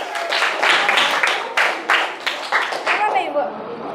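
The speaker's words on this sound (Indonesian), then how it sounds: "Kasih tepuk tangan dulu." A class of students claps in a school mathematics lesson, uneven bursts of hand claps rising and falling close by, with voices talking over the applause.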